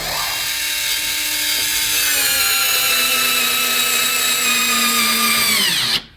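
A 4-volt pocket power screwdriver runs at maximum power in a steady, loud, continuous high-pitched whine that holds for about six seconds and then cuts off abruptly.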